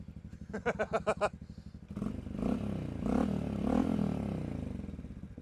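A 2024 Honda CT motorcycle engine with stock exhaust runs close by, starting with a quick series of sharp pulses, then a steady, smoother rumble that swells slightly.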